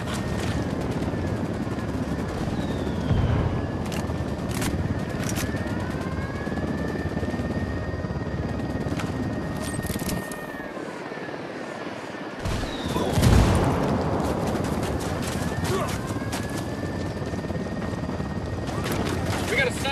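Inside the Ghost Recon Wildlands video game, a helicopter's rotor thrums steadily while bursts of gunfire crackle and a heavy boom lands midway, with voices shouting under the din.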